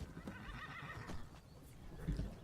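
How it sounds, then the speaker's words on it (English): The horse Shadowmere in the video game Skyrim whinnies in a drawn-out neigh, followed by a couple of hoof clops, fairly close and with no one speaking. "The horse that cannot die in this game."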